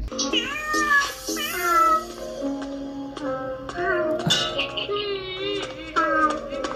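A cat in a cage meows repeatedly in short, plaintive cries, some drawn out and wavering, played back from a story video and fairly loud and close.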